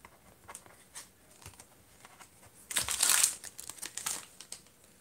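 A football and baseball trading card pack being torn open, soft crinkling of the wrapper rising into a louder burst of crackle midway, close and alone with no speech.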